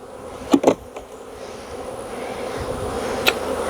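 Honeybees hum steadily around a pollination split hive, with a few sharper knocks and brief louder buzzes early on.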